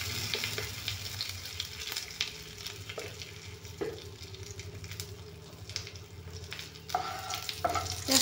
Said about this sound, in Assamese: তেজপাতখিনি ৰংগুড়াখিনি একেলগে অলপমান ভাজি ল'ম